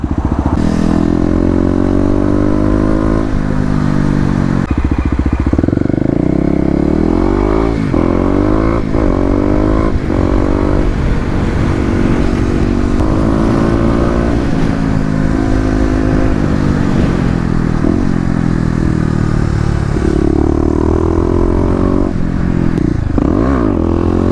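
Kawasaki KLX250 dirt bike ridden hard and loud up close, engine revving and shifting through rising and falling pulls, with a brief wheelie burst before it settles, arriving at a store parking lot.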